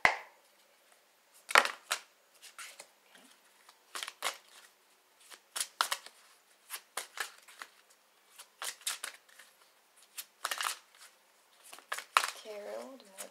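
Close, crisp riffling and snapping of a new, fairly thick modern witch tarot deck being shuffled, with repeated bursts through the clip and short pauses between them.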